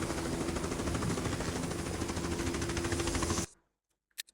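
Continuous rapid gunfire from the game Tomb Raider 6 roars steadily for about three and a half seconds and then cuts off abruptly, followed by a couple of brief clicks in near silence.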